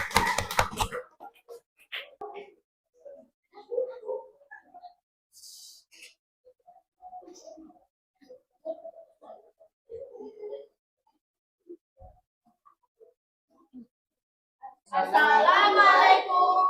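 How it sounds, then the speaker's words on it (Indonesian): Students in a classroom break into a burst of applause for classmates presenting, dense and close for the last couple of seconds, after a brief patter of clapping at the start and scattered quiet chatter in between. "Aplaus untuk teman kalian."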